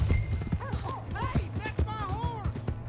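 Hooves clip-clop rapidly beneath excited shouting voices in the video game Red Dead Redemption 2, with a horse neighing and whinnying in bursts; rapid galloping rhythm close by.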